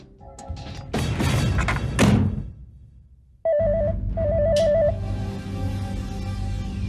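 A telephone rings twice in a tense crime drama scene, loud electronic trilling tones following thumps and a burst of dramatic noise, with a steady low hum underneath.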